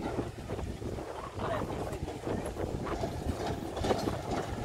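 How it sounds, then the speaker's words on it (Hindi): A John Deere tractor approaching through a wheat field, giving a continuous low engine rumble mixed with gusty wind noise at steady loudness. "भाइयों जॉन डियर ट्रैक्टर आ रहा है सामने से"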